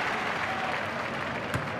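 Stadium crowd in a FIFA Mobile 22 football match, a steady wash of distant cheering and applause, fairly faint and continuous, with one short sharp thud near the end.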